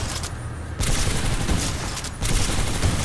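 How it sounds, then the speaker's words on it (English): A fast-firing gun in the first-person shooter Titanfall 2 lets off loud, rapid automatic bursts, two long sustained volleys close up with a brief gap between them. "I don't know how I feel about this gun. It shoots fast"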